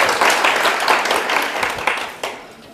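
A lecture audience at a Korean real estate law class breaks into dense, steady clapping, loud and close, tapering off over a few seconds.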